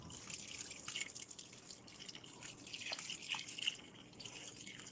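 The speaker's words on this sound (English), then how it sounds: "add a bunch of water." Water pours and drips into a bucket of clay, a soft, close, uneven splashing and trickling at low volume with no voices.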